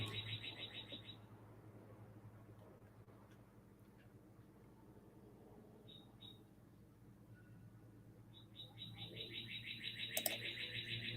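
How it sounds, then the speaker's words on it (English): Birds chirp outside an open door, bursts of rapid high tweets heard at the start and again near the end, fairly faint over a quiet low hum indoors. "the birds are going nuts when they've been quiet all day long"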